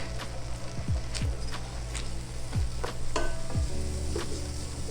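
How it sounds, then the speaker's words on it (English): A very hot pot being deglazed for a Santa Maria chuck roast, loud continuous sizzling with several distinct scraping strokes of a utensil across the bottom, close up and without talk. "Deglazing will take all the flavors that have been on the bottom of the pot."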